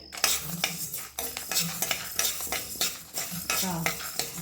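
Onions and green chillies fry in a pan for onion sambar while a metal spoon stirs and scrapes, producing loud rhythmic clanks and scrapes over a constant close sizzle.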